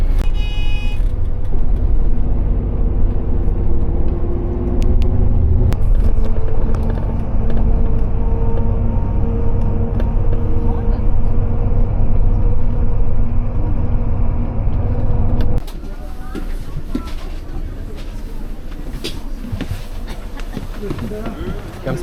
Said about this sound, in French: Dans le bus, direction Sokcho, un petit bus tout sympa.